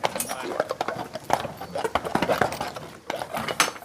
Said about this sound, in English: Balmoral is a 6-year-old working shire horse.